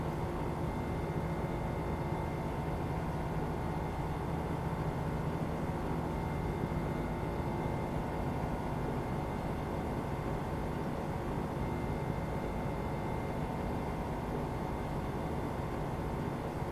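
A low, steady airplane engine drone in Microsoft Flight Simulator 2020 hums continuously, like a propeller plane cruising, fairly quiet and unchanging from start to finish.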